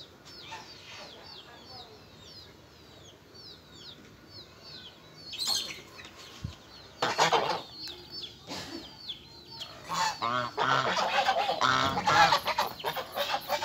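Domestic geese in a rural yard, honking and cackling calls that start sparse and grow louder and busier, with wing flaps and other poultry clucking nearby.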